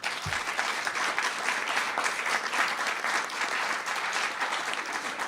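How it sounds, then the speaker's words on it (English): A crowd claps steadily and warmly throughout, sustained applause with no voices over it. "let's give a round of applause for these guys one more time"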